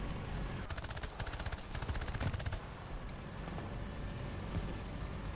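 Enemy tank gunfire in the War Thunder tank battle video game: a rapid automatic burst rattles for about two seconds, then stops, leaving a low engine rumble underneath, fairly quiet overall.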